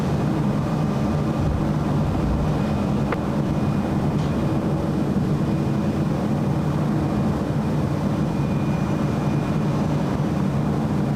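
A diverted airliner, bound for San Francisco, arrives on runway 7 right at LAX during a big storm, heard as a steady, distant jet roar blended with constant wind noise.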